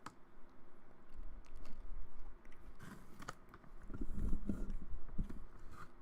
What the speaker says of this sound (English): I hope chewing noises don't trigger you.